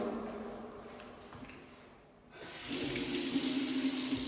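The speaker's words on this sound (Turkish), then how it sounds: "Ay yıkıyor musun Balcın evet." A kitchen tap runs into a sink as something is washed, a steady hiss of water that drops briefly, then returns louder and fuller for the rest.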